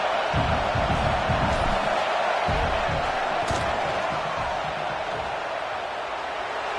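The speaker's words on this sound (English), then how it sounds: "This crowd trying to do its part to get inside the kicker's head." Stadium crowd at a football game roaring during a field goal attempt, a loud sustained wall of cheering and noise that fades slightly toward the end, with a commentator speaking over it.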